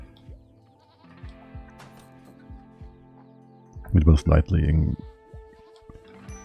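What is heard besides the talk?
goats bleating in a video game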